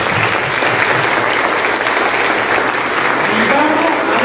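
Loud, dense audience applause at a Spanish-language church gathering, continuous clapping filling the whole short stretch without pause.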